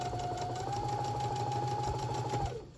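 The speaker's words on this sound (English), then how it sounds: "I'm going to sew that 1/4 inch seam allowance" A sewing machine runs steadily, stitching a quarter-inch seam allowance on a Santa mug rug, with a continuous motor whir and hum that stops near the end.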